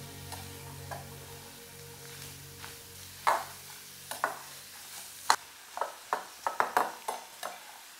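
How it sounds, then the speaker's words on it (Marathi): Onion dry-roasts in a kadhai while a spatula scrapes and stirs it, giving sharp scraping strokes that come faster toward the end over a faint steady hum. "कढईत आपली आता कांदा भाजून घेते"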